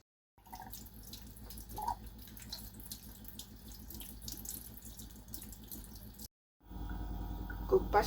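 Water from a kitchen tap runs steadily into a pot to be boiled for cooking, a close splashing stream that stops briefly and then resumes, with a faint background hum and no voices.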